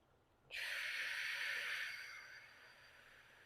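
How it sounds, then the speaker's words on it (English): A slow, soft breath drawn in through the nose and let out again during a stretching and mobility cooldown, one close airy rush that swells abruptly and then fades gently. "Slow, soft in through the nose. Exhaling out."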